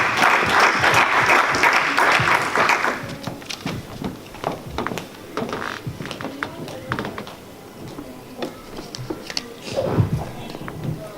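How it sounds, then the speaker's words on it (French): A church congregation applauds to welcome a preacher: loud, dense clapping for a few seconds that thins into scattered claps and room noise. "applaudieren, um ihn willkommen zu heißen."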